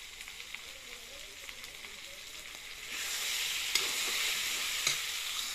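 Turmeric and spices for a spicy mutton curry sizzle in a pan, a steady frying hiss that grows louder partway through, with faint stirring and soft background sounds.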